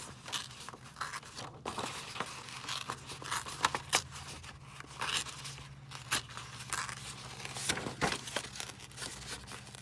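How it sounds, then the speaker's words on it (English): A printed paper napkin decorated with Edith Holden flowers being torn by hand, heard as close, quiet, irregular ripping and crinkling in short bursts over a low steady hum, with no voices. "Let's just try tearing this out."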